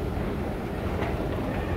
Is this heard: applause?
no